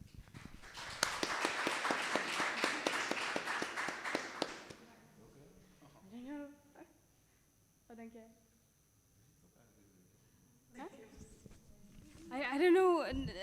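Audience clapping in a hall, a dense burst of applause lasting several seconds that cuts off abruptly, followed by a voice speaking over quiet room sound.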